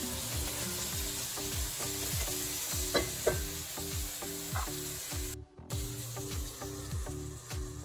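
Tomatoes cook on a low flame in a covered pan for dhaba-style shahi paneer. A steady, close sizzle carries through, with a regular rhythm of spoon strokes scraping the pan.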